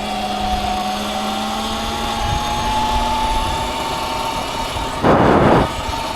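A Surron electric dirt bike rides in second gear along a cycle path, its motor giving a steady high whine with rising tones, and a short burst of rushing wind noise near the end.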